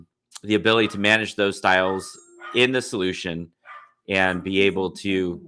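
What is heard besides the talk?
dog barking in the background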